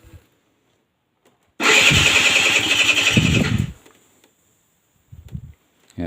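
An air-cooled Scarabeo Ditech scooter engine being converted to water cooling cranks and starts abruptly, then runs loud and raspy for about two seconds before cutting out. A short, quieter sputter follows near the end.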